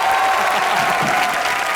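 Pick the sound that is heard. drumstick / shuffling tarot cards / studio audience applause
studio audience applause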